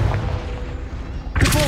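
Confringo fire spell exploding in Hogwarts Legacy: a deep booming thud and rumble that fades, followed by a sharp bright burst near the end.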